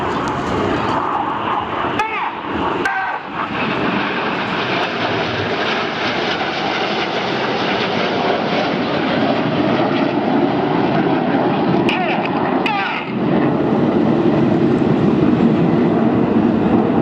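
Aerobatic display jets flying in tight formation at the Eastbourne airshow, a loud, sustained roar filling the whole stretch with brief rushing surges as they pass, while a commentator talks throughout.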